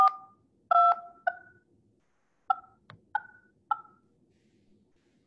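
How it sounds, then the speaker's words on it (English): Telephone dial pad tones while dialing a number, a series of distinct short DTMF beeps in an uneven rhythm, clear and close against near silence. "all I have to do is dial the number that I want to call."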